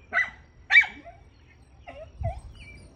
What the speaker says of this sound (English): Responsible for this dog barking.